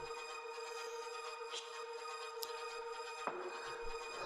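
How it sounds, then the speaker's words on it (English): A shortened impact sound with reverb hits in a techno track, with a sharp burst near the end over a sustained tonal backdrop. "this is an impact that we've just shortened to the very end, flung some reverb on it"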